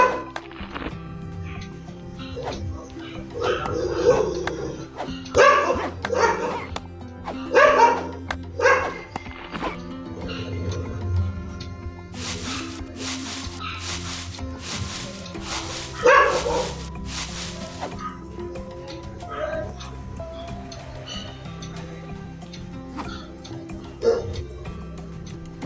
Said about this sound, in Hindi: सामने कुत्ते ने बड़ा परेशान किया था